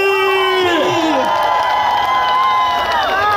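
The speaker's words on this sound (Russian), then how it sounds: "Еще раз дружные громкие аплодисменты!" A loud crowd at an outdoor Youth Day event in Kstovo, Russia, cheers continuously, with whoops and high shouts rising over the roar.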